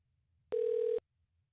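A single steady telephone tone lasts about half a second, clear and alone over faint background noise, while a scammer's number is redialed with a different caller ID.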